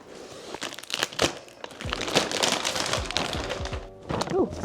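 Packaging from a Japanese Don Quixote beauty and skincare haul being cut and torn open with scissors, with close crinkling, crunching plastic and a few dull thunks, all fairly quiet.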